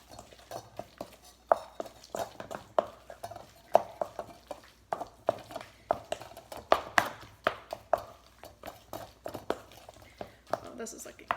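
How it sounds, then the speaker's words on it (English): Spoon stirring guacamole in a bowl after a pinch of fresh salt is added, a steady run of light clicking scrapes and taps, close and fairly soft. "And then we're just going to stir that all together."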